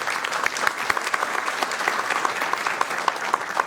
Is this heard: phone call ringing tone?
no